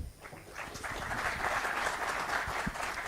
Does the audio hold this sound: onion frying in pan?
no